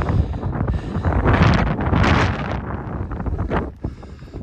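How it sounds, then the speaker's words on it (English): Strong coastal wind roars and buffets the microphone in loud, surging gusts at Smoo Cave on Scotland's north coast, with no voices. "So the wind's already picking up."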